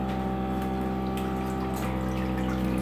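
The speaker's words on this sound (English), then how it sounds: "Turn the water on." Water runs from a faucet into a walk-in bathtub, a steady, full rushing flow with a low pump-like hum underneath, constant and close with no talking.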